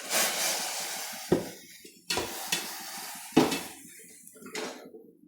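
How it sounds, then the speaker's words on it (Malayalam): Spoon scraping and clinking against a pot as rice flour is stirred into boiling water, a steady hiss underneath with four or five sharp scrapes and knocks spaced about a second apart, close and fairly loud. "നമുക്കൊന്ന് ഇളക്കി കൊടുക്കുക."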